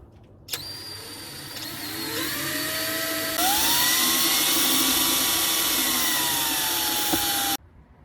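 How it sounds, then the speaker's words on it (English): A power drill whines steadily as it bores holes into metal while installing a Redarc Alpha 50 amp DC-DC charger, pitch shifting as the bit bites in, running for several seconds before stopping abruptly. "whenever I drill large holes, I always do small holes and just work my way up"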